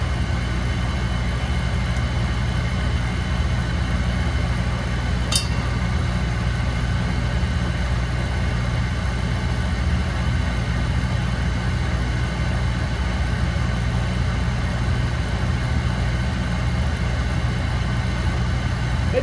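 An oil-fired boiler burner that has just ignited and is running, giving a steady, even roar with a low rumbling hum that holds constant throughout, close and alone.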